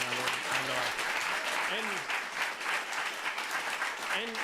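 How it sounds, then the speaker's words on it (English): Loud, sustained applause from a crowd, with a voice speaking briefly over the clapping near the start and end. "Let's give her a round of applause."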